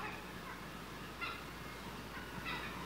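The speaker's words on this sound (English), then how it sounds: "A family of geese honk at her as they fly overhead." Two brief honking calls from geese flying overhead, a second or so apart, faint and distant, over a steady background hiss.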